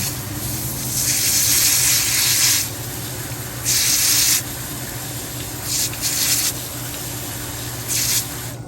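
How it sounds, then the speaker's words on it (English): Pool filter balls being washed and squeezed in water, giving bursts of wet, rubbing, sloshing noise that come and go over a steady low hum, with no talk. "take them over here and wash them off. Squeeze them, wash them, squeeze them."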